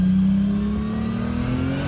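A turbocharged Nissan Patrol's TB48 4.8-liter inline-six revs close by, its tone climbing steadily as the engine pulls up through the range with no voices.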